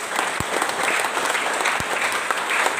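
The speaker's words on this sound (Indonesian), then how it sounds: "Kita bisa beri aplaus untuk semuanya." An audience at a school Maulid Nabi celebration claps steadily, a dense, even wash of applause from a crowd in a hall, sustained throughout with no voices over it.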